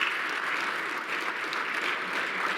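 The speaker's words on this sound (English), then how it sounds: "Can we get a round of applause first?" An indoor audience claps steadily after a tech presentation, a dense, even wash of applause that holds at one level throughout the clip.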